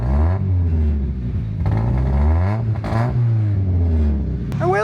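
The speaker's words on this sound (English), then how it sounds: "You can hear it misfiring in the back." A sick car engine is revved hard and stumbles with an uneven misfire from the rear, loud and close, its pitch rising and falling through a few throttle blips before a brief sharp squeal at the end.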